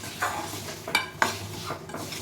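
Broken wheat being stirred and dry-roasted in a pan for lapshi, with a spoon scraping and clinking against the metal in a few distinct strokes over a faint, steady rustle, close up and without talk.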